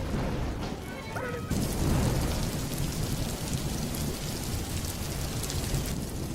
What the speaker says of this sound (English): The first rumble of thunder didn't startle her.